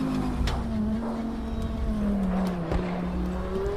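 A race car in Project CARS 2 hammers through a chicane, its engine holding a steady close drone with a slight pitch sag, punctuated by sharp clacks and bumps from the kerbs.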